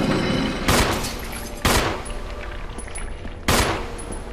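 Three loud, sharp gunshots, spaced about a second or two apart, are fired at Lisa Trevor in the Resident Evil Remaster video game, each blast ringing out with a short echoing tail.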